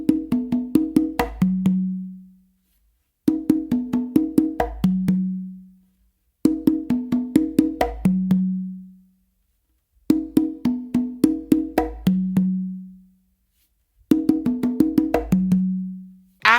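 A spicy melody pattern on three congas, mixing crisp slaps and quick strokes that end in a ringing low open tone, played in five short repeated phrases separated by brief pauses, close and solo.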